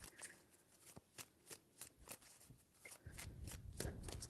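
Tarot cards riffle-shuffled by hand in a quiet room, a run of sharp, evenly spaced flicks about every half second, followed by a denser, continuous riffle toward the end; no talking.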